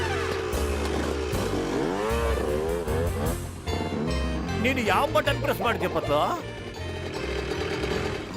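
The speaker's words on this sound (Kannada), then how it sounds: "ಅಯ್ಯೋ ಬೈಕ್ ಬಂದಾಕ್ಬಿಟ್ಟಲ್ಲ" A motorcycle engine in a Motu Patlu cartoon scene drones steadily and low underneath loud animated voices that talk over it throughout.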